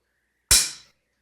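A single sharp click from the dry-fired trigger of an RPR rifle during a function check, with the bolt in and no magazine, close and crisp with a quick decay.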